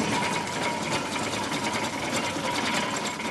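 An early Ivel tractor's engine runs steadily at close range, a dense, continuous mechanical clatter with a fast, even rhythm and no pauses.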